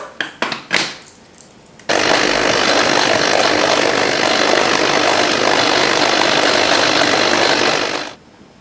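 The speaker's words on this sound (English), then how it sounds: "Now it's time to start blending the meat and the vegetables mixed together" A few knocks and clatters come first, then a blender whirs loudly at a steady high speed for about six seconds, chopping meat and vegetables into homemade dog food for Dachshunds, before it cuts off abruptly.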